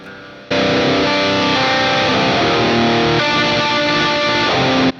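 Electric guitar in drop C tuning, a low-tuned instrument, plays a sustained, dense chord passage that starts abruptly after a brief lead-in and rings loudly and steadily to the end, with no talking.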